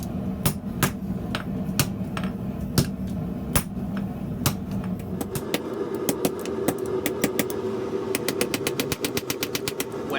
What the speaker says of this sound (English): When forging a square corner, it can be a lot of repetition.